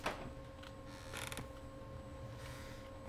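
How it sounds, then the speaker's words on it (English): Slow, quiet creaking in the horror video game Unbridled Horror, a drawn-out groaning of wood or a mechanism over a low ambient hum, with a brief louder creak midway. "I don't like that creaking."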